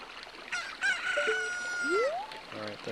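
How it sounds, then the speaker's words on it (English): A rooster crows in the Nintendo 64 game Zelda: Ocarina of Time, a single drawn-out morning crow with a rising final note, heard alone over a quiet backdrop. "We'll see what happens in a moment when the morning rooster crows."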